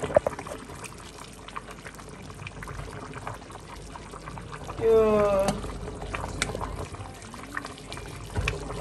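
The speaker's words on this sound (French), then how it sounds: "je vais mettre l'huile d'olive" Olive oil pours into a cooking pot in a home kitchen, a soft trickling stream that swells briefly in the middle amid faint background clatter and low room noise.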